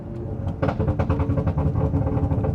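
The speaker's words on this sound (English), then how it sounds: "Immediately you can hear the burbles are much louder" A BMW engine in sport mode runs with rapid popping and crackling exhaust burbles after the throttle closes, loud and close, irregular bursts over a low rumble.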